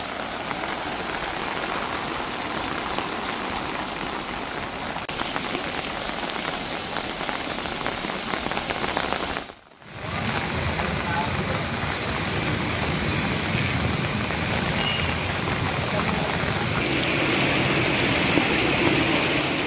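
Heavy monsoon rain pours down across farmland in Peddapalli district, Telangana, a dense, continuous roar of drops. It cuts out for a moment midway, then resumes just as loud.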